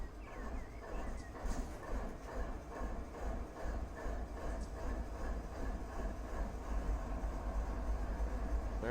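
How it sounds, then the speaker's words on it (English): A diesel locomotive in Run8 Train Simulator idles after starting up, giving a steady low rumble with a faint rhythmic chug and some mechanical clatter throughout. "Now the locomotive is fired up."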